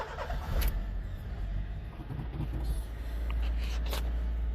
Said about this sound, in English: we're going to fire this thing up. Listen to it. So I turn the key here.